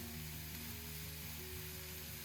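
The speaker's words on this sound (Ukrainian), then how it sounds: "додати моркву і гриби та смажити до повного випаровування рідини" Steady, even sizzling of carrots and mushrooms frying in oil, continuous and close, with a faint low hum running underneath and no voices.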